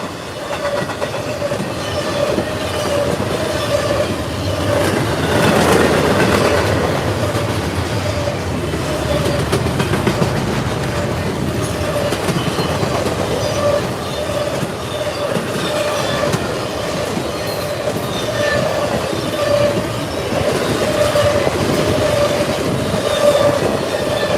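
A freight train hauling intermodal trailers, including an old Conrail trailer and Triple Crown units, rolls past a trackside spot in Gates, New York. There is a loud, continuous rumble of wheels with a steady squealing tone throughout.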